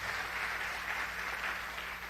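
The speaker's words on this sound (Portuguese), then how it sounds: "Vamos aplaudir a Jesus?" A church congregation applauds during a sermon, a steady wash of clapping from many hands that stays even and sustained throughout, with no voices rising above it.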